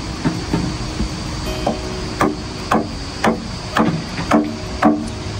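A chisel is struck into a wooden post by hand in steady, sharp knocks, roughly two per second, close and loud with no talking.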